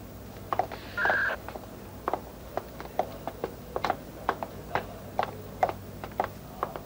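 A telephone being dialed: a short tone beep followed by a regular series of sharp clicks, close and fairly quiet over a faint background hum.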